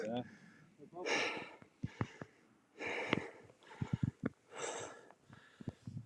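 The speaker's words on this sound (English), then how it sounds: "Everyone's heavy breathing." Hikers climbing a steep uphill trail breathe heavily, with repeated loud gasping inhales and exhales in bursts, plus sniffs and snorts, close to the mic, with brief talk between breaths.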